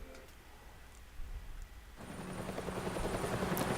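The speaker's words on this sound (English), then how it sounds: "Helicopters passing through Gotham." Helicopters pass over Gotham City in the Batman Telltale video game, their rotor drone rising into a steady, swelling rumble that grows louder toward the end, layered with a rainy ambience.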